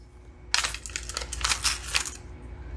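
Metal board game coins spill and clink onto a surface in a quick bright cascade lasting about a second and a half, close and clear with no voices.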